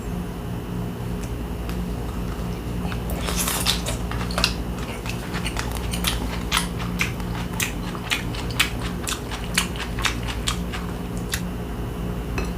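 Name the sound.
biting and chewing grilled pollock roe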